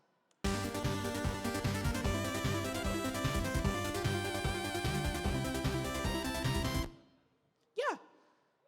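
Chiptune melody built in Famitracker, with manually programmed echo notes calling back earlier notes between the main ones; a dense, bright, steady run of square-wave tones for about six seconds, then a brief pause and a short sweeping blip at the end.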